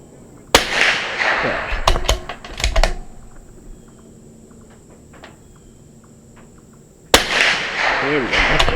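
Rifle shots fired at golf balls with Federal bulk ammunition, two sharp cracks several seconds apart at close range, with quieter handling noise in between.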